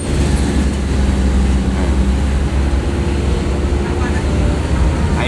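A low-flying airplane passes over a national road in North Aceh, making a broad, steady roar that fills the air throughout, with people talking nearby.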